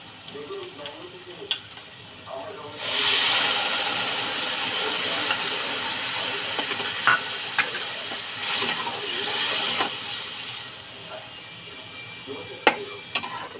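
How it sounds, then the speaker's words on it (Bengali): Water seasoned with turmeric, salt and sugar poured into a pan of sautéed onions and potatoes, setting off a loud rushing sizzle that settles into bubbling hiss, with scattered clicks and scrapes of stirring. "এবার আমি হলুদ লবণ মিষ্টি যে দিয়ে করেছি জলটাকে সেটাকে এবারে আমি দিয়ে দেব"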